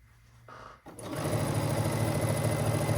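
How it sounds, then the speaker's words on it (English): A sewing machine stitches a quilt, starting up after a brief pause and then running in a loud, steady, fast mechanical whir close by, with no talking. "I'm only going to sew for like 30 minutes."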